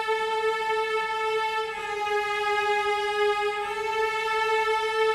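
A sustained string lead sample at its original pitch for a remake in FL Studio, holding bright, steady harmonic tones with a slight swell partway through, heard alone and fairly loud.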